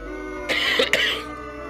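One person clears their throat and gives a short cough, a brief close pair of rough bursts over a steady low background hum.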